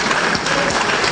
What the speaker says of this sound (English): Can we all now rise and give Mr. President and the entire ministers who have so far presented a big round of applause?